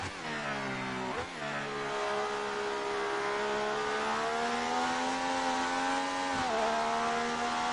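A Formula 1 car engine in the F1 2018 racing game, modern car at the Italian Grand Prix, screams at high revs with a steady harmonic whine, rising gradually through a gear, with brief dips at shifts, loud and continuous.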